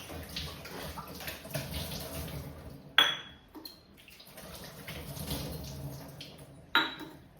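A silver bowl is rinsed and washed under running water, with a steady splashing wash broken by two sharp metallic clinks from the bowl.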